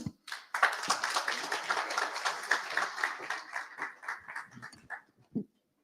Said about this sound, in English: give Mr. Talha bin Mirza Muhammad another round of applause